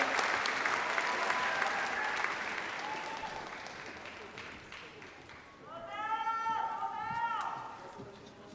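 Applause at a law school spring commencement fills a large venue as a crowd claps steadily for the graduates, loud at first and then fading, and toward the end it sits under a voice speaking over a public address system.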